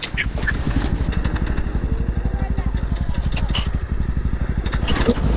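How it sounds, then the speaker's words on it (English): A heavily modified Yamaha R6 sport motorcycle with a quickshifter and tuned ECU runs close by, its engine giving a steady, loud, rapid pulsing drone throughout. "buddy let me ride his completely modded out R6"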